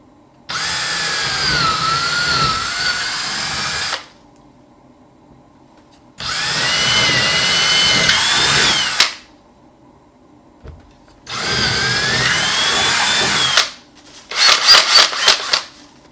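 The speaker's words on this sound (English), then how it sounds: "let's drill these three holes out" Three separate bursts of a power drill whirring through sheetrock, each lasting a few seconds with pauses between, followed by a short rattling stutter.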